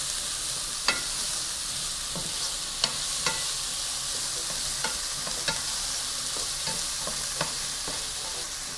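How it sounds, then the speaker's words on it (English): Vegetables fry in olive oil with a steady close sizzle, broken by repeated sharp clicks and scrapes of stirring against the pan. "to cook down your vegetables because this is gonna give you a lot of flavor"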